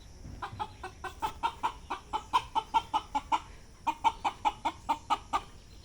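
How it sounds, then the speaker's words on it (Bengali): A farm rooster repeatedly calls in alarm after spotting a cat, sounding as a close, rhythmic run of loud clucking squawks in two bursts, with no talk. "বিড়াল দেখে মোরগে সবাইকে বলতেছে, সবাই সতর্ক থাকো, শত্রু আমাদের বাইরে অপেক্ষা করছে"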